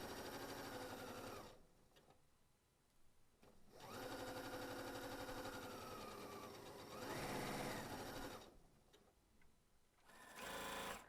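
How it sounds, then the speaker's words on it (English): A sewing machine stitching the pocket edges of pajama pants runs in three bursts of rapid, even whirring with short pauses between, close and clear. "I'm sewing my pockets with a 3/8 seam allowance across the entire edge of that pocket"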